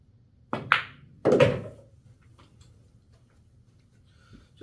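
Pool cue ball striking the 4 ball, two sharp close clicks about a second apart from the cue tip and ball contact, each followed by a short rolling rumble on the cloth, then quiet.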